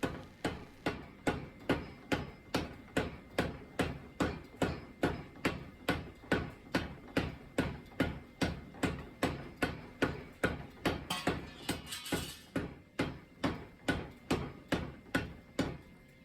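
A hammer forges hot steel in a steady, rapid rhythm, dozens of sharp ringing blows evenly spaced, close and loud, with no talking.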